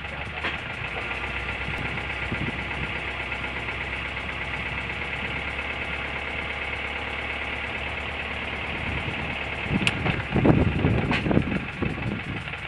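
An overheating boat engine runs steadily and close by, a dense mid-range drone with a knocking quality, growing rougher and louder for a couple of seconds near the end.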